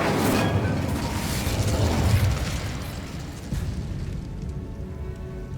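A fire spell cast in the video game Hogwarts Legacy roars as a dense burst of crackling flame, loud and sustained across the whole stretch with a low rumble, no voices.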